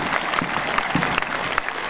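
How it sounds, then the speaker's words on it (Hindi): An outdoor crowd at an Independence Day ceremony claps in a sustained, dense burst, loud and steady for a couple of seconds with no pauses. "जोरदार तालियां"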